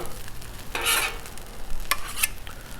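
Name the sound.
fried rice pushed and chopped on Blackstone griddle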